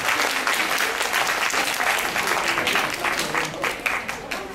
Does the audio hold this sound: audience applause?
yes